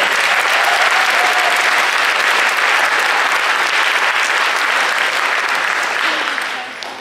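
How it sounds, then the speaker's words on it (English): An audience at a farming-technology industry night gives a full, loud round of applause that holds steady and then tapers away at the end. "So if you would give them a round of applause."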